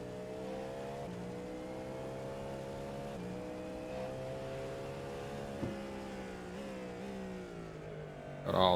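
Several race cars, GT3, LMP and LMP2 prototypes, in a Sebring endurance racing video game, with engines droning steadily and shifting pitch through gear changes, plus a brief louder burst near the end.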